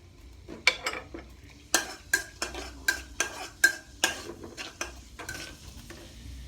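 Pickled mustard greens stir-fried with garlic in oil in a pan: a quick run of sharp spatula clacks and scrapes against the pan, a dozen or so close strikes over a faint sizzle.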